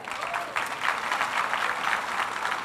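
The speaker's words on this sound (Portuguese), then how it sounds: "That is not worth applause." Church congregation clapping, a dense steady patter of many hands lasting the whole stretch at moderate distance, with no voices rising over it.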